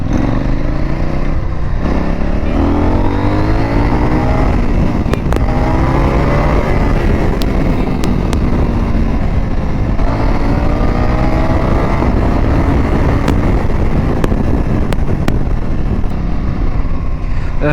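A CFMoto 800NK motorcycle engine in Sport mode, loud and close, revving up repeatedly in strong acceleration sweeps with gear changes, a continuous throaty roar over wind noise.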